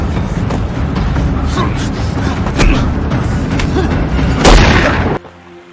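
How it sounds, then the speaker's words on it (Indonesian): A film gunshot rings out as one loud, sharp blast near the end, after a sustained tense rumbling score and ambience, followed by a sudden drop to quiet. "yang menembak bukanlah Rhys melainkan kakeknya Frank dari belakang"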